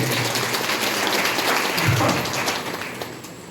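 An audience at a religious discourse claps together, a dense, moderately loud wash of applause that holds steady and then eases off slightly.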